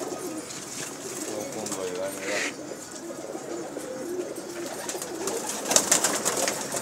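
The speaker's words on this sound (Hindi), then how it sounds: "ये फ़कीर गुल कबूतर है।" Pigeons kept by a fancier, including Fakir Gul breed birds, coo and murmur continuously nearby, a layered flock chorus with occasional louder flutters and calls, while people talk faintly underneath.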